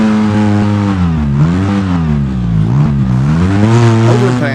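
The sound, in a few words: off-road vehicle driving in video game Overpass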